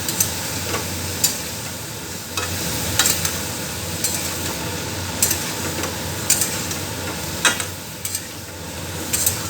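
Bottle gourd and prawns stir-frying in a pan, a steady low sizzle broken by sharp spatula scrapes and taps every second or so, close and continuous with no voices.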